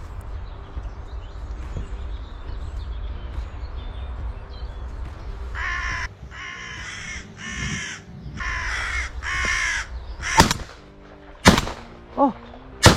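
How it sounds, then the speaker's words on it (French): Carrion crows caw repeatedly in loud bursts across an open field during crop-protection crow hunting, followed by a shotgun double shot, two sharp loud blasts close together, with another report just after. "les deux corneilles arrivent tellement bien que je vais essayer de tirer les deux"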